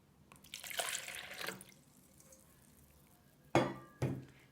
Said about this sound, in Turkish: Hemen ben döküyorum suyumu.